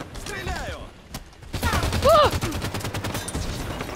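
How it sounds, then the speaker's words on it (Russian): Gunfire in Halo 5 online multiplayer crackles in repeated loud bursts and scattered shots, mixed with game effects and a player's voice talking over it. "Стреляю!"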